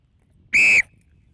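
A rugby referee's whistle sounds a single sharp, loud blast of about a quarter second to start a kick-off during a refereeing skills practice, with quiet surroundings before and after.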